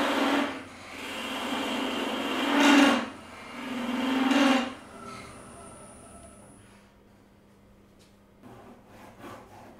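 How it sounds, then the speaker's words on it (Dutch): Hand-sawing through wood held between the centers of a stopped wood lathe gives three loud, rasping strokes, then quieter scraping and faint knocks. "Beter is het om het laatste stukje met stilstaande bank te zagen."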